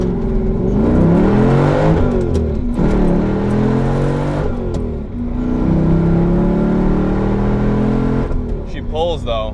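A manual Mercedes C55 AMG accelerates hard in first gear, its engine note climbing steadily and loudly in repeated rising sweeps with brief drops between pulls, close and dominant throughout.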